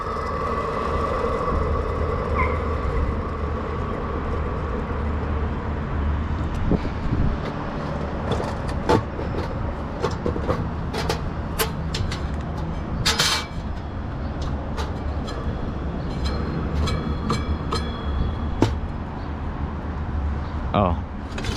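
Faulty downblast centrifugal exhaust fan running with a continuous low rumble and faint whine, overlaid by scattered knocks and clicks. A person talks briefly.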